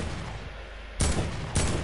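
Two sharp gunshot blasts, about half a second apart, ring out in a video game over a steady low background of game noise.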